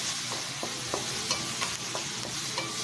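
White onion and a sliced finger pepper sauté in margarine for bangus and liver sisig, giving a steady close sizzle with regular scrapes and taps from the stirring spoon.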